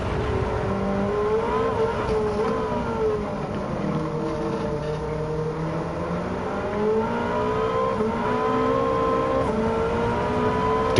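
A 900-horsepower road car on sports tires in Gran Turismo 7 revs hard and steadily, the engine note climbing and dropping through gear shifts, loud and continuous with no talk.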